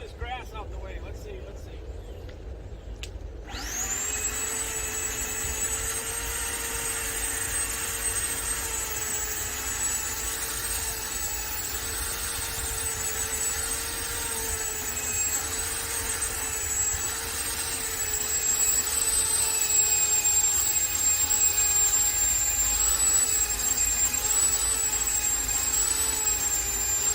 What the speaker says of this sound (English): try to clean up a little grass around this crepe myrtle with this Sun Joe tiller